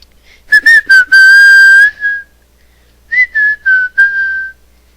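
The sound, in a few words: whistling a wrestling entrance theme song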